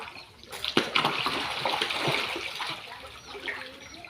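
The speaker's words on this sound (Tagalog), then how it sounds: "So tingnan nyo kung gaano sila kalakas kumain ng mga ganyan." Catfish thrash at the surface while feeding on chopped milkfish, throwing up continuous close splashing and sloshing water that starts abruptly and churns steadily, with a few sharper splats near the start.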